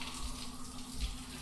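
Water from a shower runs steadily in a shower room in the Steins;Gate visual novel, a continuous hiss with a low hum beneath, unchanging over a short stretch.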